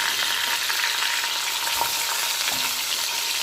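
Masala-coated fish fry in a pan of hot oil for fish varuval, producing a dense, even sizzle with occasional small crackles and pops, steady and close, with no one speaking.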